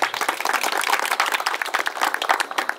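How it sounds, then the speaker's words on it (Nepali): Audience clapping to honor the organizers at a district-level quiz, singing and dance competition, with dense, continuous applause from a sizeable crowd filling the whole span at steady volume. "आयोजकलाई हामी सबैले ताली बजाएर सम्मान गर्छौँ"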